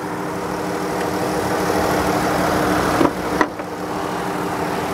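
A 2018 Journey's engine idles with the hood up, a steady, smooth, even hum that runs throughout, with a couple of brief soft clunks near the end.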